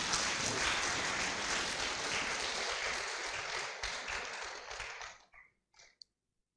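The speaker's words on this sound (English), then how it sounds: "Can we clap again?" A graduation ceremony audience at the 2021 Norwegian International School Year 11 claps together in a steady, full wash of applause that holds for about five seconds, then thins into a few scattered final claps before quiet.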